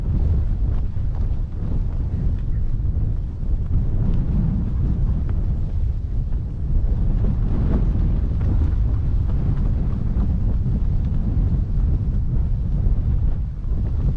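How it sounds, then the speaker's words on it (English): Strong early-morning wind buffets an outdoor microphone, a loud continuous low roar with gusty surges lasting throughout, no voices. "I suppose you can hear the wind is pretty strong this morning"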